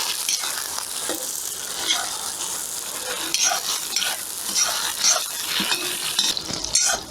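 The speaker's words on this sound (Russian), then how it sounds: "Если оно зашипело, если лук зашипел, значит масло прогрелось." Onions sizzle and crackle steadily in hot oil in a cast-iron kazan cauldron for plov, with occasional scraping and stirring clinks of a utensil against the pot.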